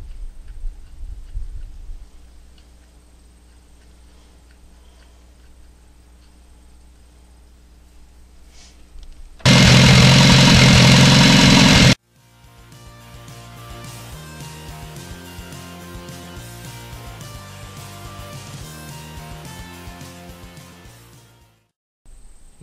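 A rebuilt Farmall 100 tractor engine cranks and fires after a burst of loud noise, then settles into a steady, close, even-running idle for several seconds before it is shut off, with no talk.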